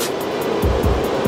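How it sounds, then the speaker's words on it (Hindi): A loose transmission gear on a motorcycle, worn with play, makes a rhythmic rattling knock that repeats about every fifth of a second over a steady engine drone, close and fairly loud. "बट ये ढीला था और ये गरारी आवाज़ कर रही थी।"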